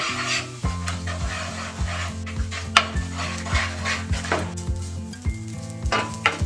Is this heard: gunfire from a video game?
no